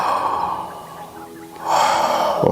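A person takes two long, deep inhalations through the mouth during a guided breathing exercise. Each one is a loud, close, airy rush lasting about a second, separated by a brief quieter pause.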